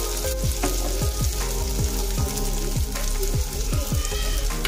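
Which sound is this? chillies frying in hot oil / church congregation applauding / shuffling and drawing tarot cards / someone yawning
chillies frying in hot oil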